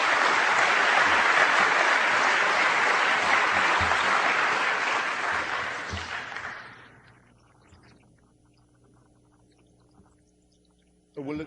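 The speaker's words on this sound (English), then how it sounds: "Pity about the applause." A large audience at a talk applauding, dense clapping that holds steady for about six seconds, then fades into quiet room tone before a brief noise at the end.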